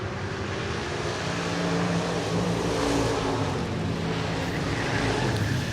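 Race cars roar down the back straightaway at Deep South Speedway in Loxley, Alabama, a steady, distant engine drone with no talk over it.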